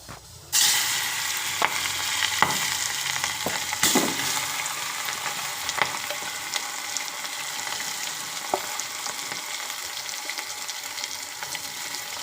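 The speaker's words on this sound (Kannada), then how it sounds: "ಇವಾಗ ಆಯಿಲ್ ಕಾದಿದೆ ಇವಾಗ ಇದರಲ್ಲಿ ನಾವು ಮಿಕ್ಸ್ ಮಾಡಿ ಇಟ್ಕೊಂಡಿರೋದನ್ನು ಹಾಕ್ಬಿಡೋಣ" A spice mixture goes into hot oil for a mannery fry with a sudden loud sizzle, then settles into a steady, close hissing fry with occasional light utensil clicks and no talking.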